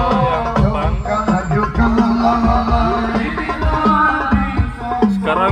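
A sholawat song with vocals and steady percussion plays through the front speakers inside an Isuzu Panther, a full, continuous, moderately loud sound filling the cabin.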